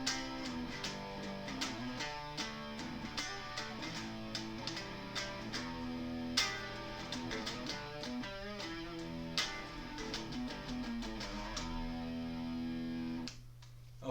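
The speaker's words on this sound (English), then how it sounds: "Distortion gives a kind of growl and a nastiness to the sound of the guitar," Electric guitar played through a distortion effect for a rock tune, a dense, gritty run of strummed chords and riffs with sharp attacks, loud and steady throughout, ending in a sustained ringing chord that cuts off abruptly.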